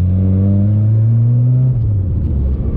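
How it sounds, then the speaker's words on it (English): A Nissan R31 Skyline on coilovers, heard from inside while driving, gives a loud, steady engine drone with a rising tonal whine, then a brief rough chatter as the differential chirps under load. "The diff chirping, love that."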